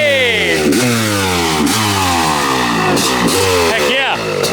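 A Honda CR500 motorcycle engine revs repeatedly, about five sharp throttle blips rising and falling in a loud, close, raspy two-stroke wail, with no talk over it.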